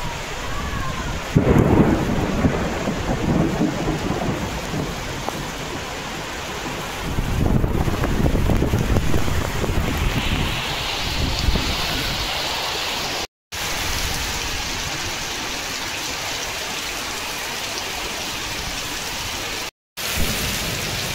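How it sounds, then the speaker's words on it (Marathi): Heavy rain roars continuously while deep rumbles of thunder roll through twice, loud and close, with no voices. "पाऊस काही जाम जोरात लागला आहे, म्हणजे जबरदस्त असा पाऊस पडायला लागला आहे"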